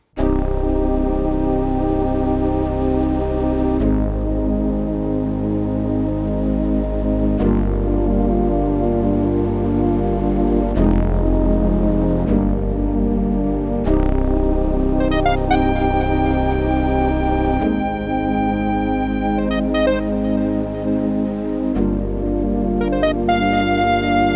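Sustained synthesizer chords with a 90s gaming soundcard inside shift slowly from one to the next, and a bright, breathy flute lead line enters partway through, soaring above the held harmony.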